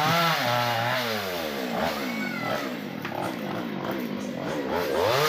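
A chainsaw cuts ten-year-old teak trees behind a house, its motor whining and rising and falling in pitch as it revs through the wood, loud and close.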